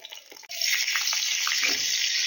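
Sliced pointed gourd hits hot mustard oil with a sudden sizzle, settling into a steady, loud, close hiss of frying with no talking.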